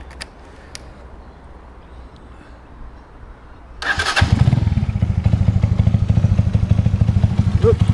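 A Skyteam Ace 125 motorcycle engine cranks and fires up partway through, then settles into a loud, steady idle with a low rhythmic throb.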